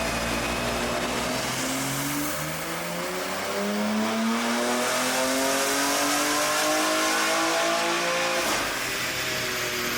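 A 2023 BMW M3 (G80) running E50 ethanol revs hard on a dyno. The engine's pitch climbs steadily through a long, loud pull before easing back near the end, with no voices.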